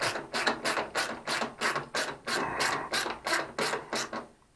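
A screw is driven back in while reinstalling the water valve on a Maytag 3000 Series washing machine, giving a steady run of about a dozen evenly spaced ratcheting clicks, close and fairly loud, with no talking.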